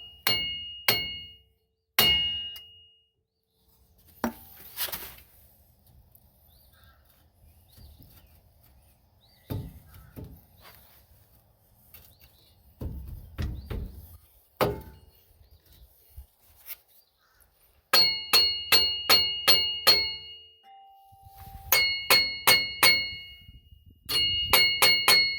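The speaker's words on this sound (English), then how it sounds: "I gave it a couple of smacks with the hammer." Hammer blows on a rusty rear wheel hub assembly of a Nissan Versa, sharp metallic clangs with ringing tails, arriving singly and then in rapid bursts of several strikes, loud and close.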